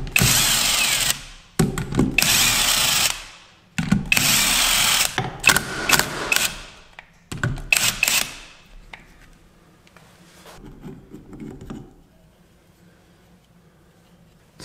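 A power tool backs out the clutch cover bolts on a Yamaha XT225 motorcycle in short loud bursts, several separate runs with brief pauses between, then quieter handling and tapping of parts as the work winds down.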